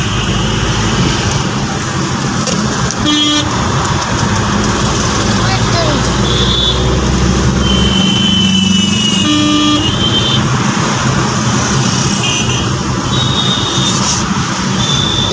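Busy road traffic in Greater Noida with cars and scooters, a loud constant roar of engines close by, short horn toots cutting in now and then, and a voice talking over it.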